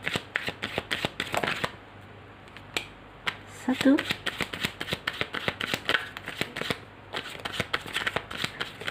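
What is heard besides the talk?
shuffling tarot cards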